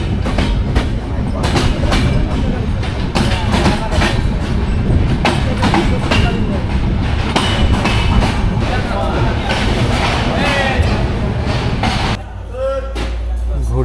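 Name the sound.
Ekota Express train leaving Joypurhat station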